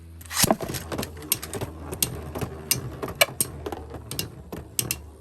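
Hard clacking collisions and scraping rattles from Beyblade Metal Fight tops clashing in a plastic stadium, a loud impact early then repeated sharp knocks, no talking.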